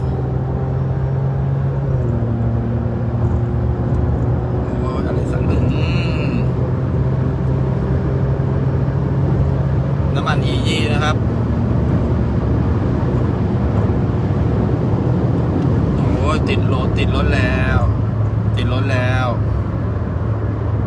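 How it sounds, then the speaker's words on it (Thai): A Honda City 2020 with an AZC aftermarket exhaust drives along a road, producing a steady low engine drone with shifting tones as it changes gear, continuous throughout with occasional brief higher-pitched noises. "ฟังเสียงท่อไปด้วยทีเดียวเลย"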